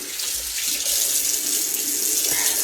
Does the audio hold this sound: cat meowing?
no